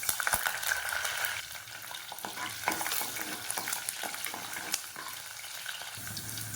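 Curry leaves and garlic fry in hot oil in a pan for a South Indian spinach thokku, a steady sizzle and crackle with scraping stirring strokes, close and alone.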